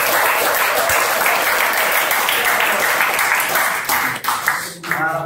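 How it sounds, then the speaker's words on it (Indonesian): A classroom of students giving a round of applause, dense sustained clapping that holds steady, then thins into scattered claps at the end, with faint voices mixed in. "Oke, kita beri tepuk."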